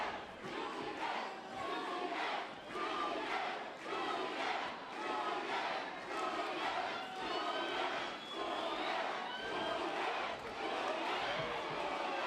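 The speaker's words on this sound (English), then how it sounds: "the crowd chanting furiously" A crowd at an MMA fight chants in a loud, rhythmic pattern, with evenly spaced swells of voices repeating about every second and a half.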